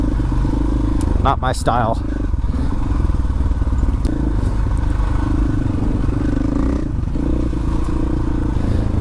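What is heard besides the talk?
dual sport motorcycle riding (FE501, 500EXC-F, CRF450L)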